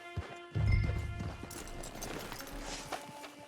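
Horse hooves clip-clopping at a walk in Red Dead Online near a camp, a steady series of soft thuds with a louder rumble early on and background ambience, no talking.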